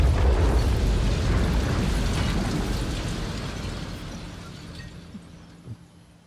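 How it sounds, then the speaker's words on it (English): A big explosion rocks a city in a video game: a broad, roaring blast that slowly fades over several seconds into rumbling debris, with a few faint clatters at the end. "exclusive footage of the explosion that rocked Metropolis just seconds ago"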